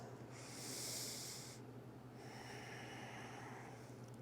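A person breathing deeply through a yoga stretch during a mobility flow, with one long, strong, close breath followed by a softer, steadier exhale over a low background hum.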